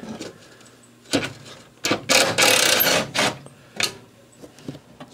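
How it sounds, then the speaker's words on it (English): A DeWalt 3/8-inch drive impact wrench works on bolts during repair of a Mastercraft 12.5 hp riding mower, firing in short rattling bursts and one longer hammering run, loud and close, with no talk. "3/8 drive DeWalt impact. It's got lots of power."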